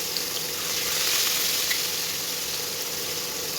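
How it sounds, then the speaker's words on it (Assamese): Steady loud sizzling of fish pieces frying in hot oil in a wok, a continuous bright hiss with faint crackles, close up and without any talking. "আৰু এতিয়া কেৰাহীখনত তেল গৰম কৰি মাছ কেইপিচ দি ভাজি লওঁ।"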